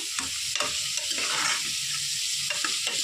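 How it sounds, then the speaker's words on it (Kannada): Lemon rice seasoning frying with turmeric in a pan, a close continuous sizzle with quick scraping strokes of a spoon stirring through it, no voices. "ಇವಾಗ ಇದೆಲ್ಲ ನೀಟಾಗಿ ಸ್ವಲ್ಪ ಫ್ರೈ ಆಗಿದೆ ಜೊತೆಗೆ ಕಲರ್ ಅರಿಶಿನ ಹಾಕೊಂತಿದ್ದೀವಿ"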